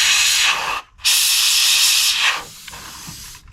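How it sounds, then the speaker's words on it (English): Red spray paint hissing from a can onto plastic model aircraft parts from a Monogram Douglas Dauntless kit, two close, loud bursts separated by a brief pause, then quieter fading hiss. "And then I'm going to spray these pieces"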